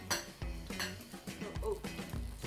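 A bowl of fruit salad is stirred with utensils, giving quiet, repeated clinks and scrapes of metal against the bowl at an uneven rhythm.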